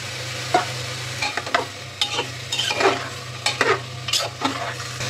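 Country chicken pieces are stirred and fried in hot oil in a pan, with a splash of water, for a Bengali home-style curry. Intermittent scraping strokes from the stirring sound over a low, steady sizzle, with no voices.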